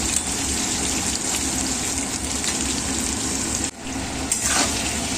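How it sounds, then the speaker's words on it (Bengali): Potato pieces fry in hot oil in a home kitchen, cooked for a fish curry. A loud, continuous, close sizzle with steady crackle runs throughout, dipping briefly once near the end. "এই যে মাছের আলুটা ভালো করে লাল লাল করে ভেজে নিই"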